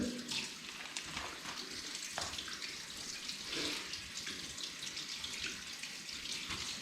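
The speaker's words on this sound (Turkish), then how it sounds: "Şimdi ben bu balığı yıkacağım" Tap water runs steadily into a sink while sea bream is washed under it, a continuous splashing stream with some dripping and no talk.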